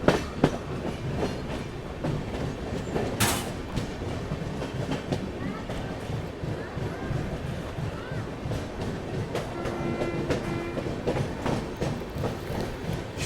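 Rumble and steady clickety-clack of the Duronto Express running at moderate speed through Mathura station, heard from on board, continuous and fairly loud with occasional brief clanks and a faint squeal.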